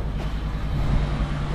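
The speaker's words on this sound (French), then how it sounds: "Je viens de démarrer le VR." An RV engine just started and idling, a low steady rumble with a constant hum, close and fairly loud, with no speech.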